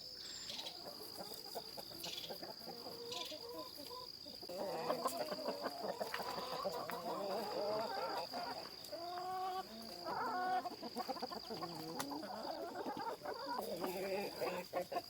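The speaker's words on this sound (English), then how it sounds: "I went up and let the chickens out" A flock of backyard chickens clucks and murmurs continuously after being released from their coop, with many overlapping calls at close range and a steady high insect-like whine in the background.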